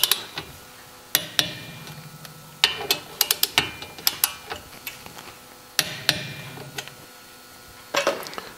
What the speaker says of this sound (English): we're going to torque the brake caliper bolts to 85 newton meters